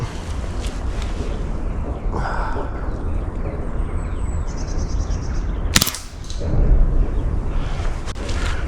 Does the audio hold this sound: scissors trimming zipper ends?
no